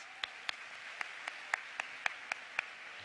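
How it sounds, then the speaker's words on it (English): Sparse, faint clapping at a women's conference keynote: about ten distinct hand claps spaced at a slow, steady rhythm, heard at a distance over quiet room tone. "let's give Jackie a huge round of applause."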